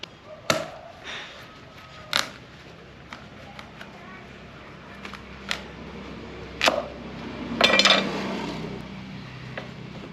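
A knife chops through a winter melon on a board, giving a few sharp, separate thuds and cuts spread across a quiet kitchen scene, with a scrape near the end.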